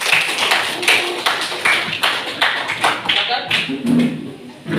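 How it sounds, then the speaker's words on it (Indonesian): A classroom of students applauds group 3 with loud, rhythmic, evenly spaced group clapping close by, while voices talk over it. "Baik, kita kasih aplaus buat kelompok 3."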